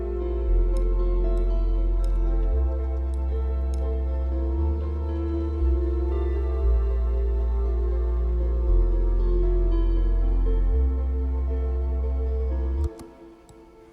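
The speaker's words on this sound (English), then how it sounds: "it's just a sub bass, simple Moog emulation that I had here." Deep sub bass from a Moog synthesizer emulation, sustained low notes shifting pitch every couple of seconds in a steady line with faint ticking percussion above, then cutting off near the end.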